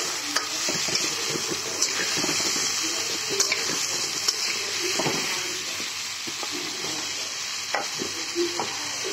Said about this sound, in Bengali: মাছালা তেলটাতেই আমি মিষ্টি কুমড়া আর আলুটা একটু ভেজে নিচ্ছি।